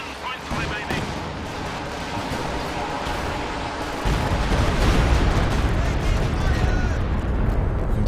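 Artillery barrage in Company of Heroes 2: dense, rumbling explosions and shellfire rolling continuously, growing heavier midway, with a commentator's voice talking over the battle.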